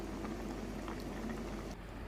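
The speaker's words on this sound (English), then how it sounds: "Now add some water and a stock cube. That's all that I'm allowed to use. And add whatever spices you want to add. Curry powder is very good with this." A pot of soup made with water, a stock cube and curry powder simmers quietly, giving a soft, steady bubbling hiss with faint pops, low in level and alone.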